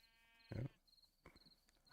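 A Minecraft sheep gives a short, loud bleat, then a second fainter bleat a moment later, set against quiet in-game ambience with no talk.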